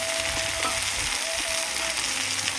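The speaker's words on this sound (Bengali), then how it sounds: "আর এখানে পেস্ট করে রাখা মশলাটা এটা ভালোভাবে কষিয়ে নেব" Spice paste for a silver fish curry frying in a pan, a steady close hiss of sizzling oil throughout with faint scraping from stirring, no voices.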